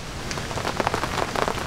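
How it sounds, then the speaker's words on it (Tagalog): Heavy rain drums steadily on a camping tent through a cold, windy night, a dense patter of drops with occasional louder splats, close and continuous with no voices. "Sumula kagabi, walang tigil ang ulan."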